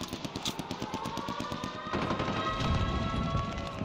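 Rapid automatic gunfire in a video game, fast evenly spaced bursts up close, followed by a denser, louder volley with crashing impacts; no talking.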